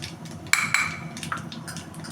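Mustard seeds splutter and pop in hot oil in a pan, with several sharp crackling bursts over a low steady sizzle, close and moderately loud, no voices.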